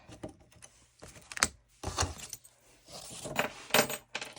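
Metal screws from thrifted decor being taken apart are handled up close, producing a series of irregular clinks, rattles and jangles separated by brief quiet gaps.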